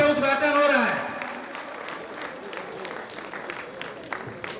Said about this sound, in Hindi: तालियों से हम स्वागत करें।